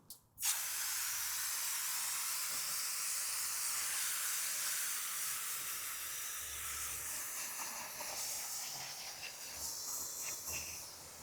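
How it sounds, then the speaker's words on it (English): A pressure-washer style water spray rinses cleaner off a car wheel and tire, with a loud, continuous hissing rush of water that starts abruptly and holds steady throughout, with no talking. "So let's go ahead and rinse and see how clean we are."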